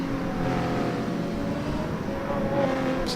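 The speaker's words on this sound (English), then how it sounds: "Sounds like a Formula 1 car behind me on the" Engines of GT3 race cars during a rolling start in the GT Sport racing game, a steady droning engine hum with layered tones holding constant loudness, no talk.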